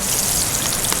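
A crawdad sizzles loudly in a hot frying pan, a dense, steady hiss and crackle up close with no voices over it.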